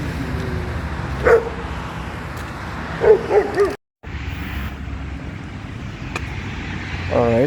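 Dogs near a hiking footpath in Upper Svaneti, Georgia, give a few scattered barks and yips at moderate distance over steady outdoor background noise, with a brief dropout partway through.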